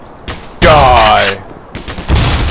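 Shotgun blasts in the shooter game Black Mesa, a loud close burst followed by further shots and combat clatter, with a voice in the mix.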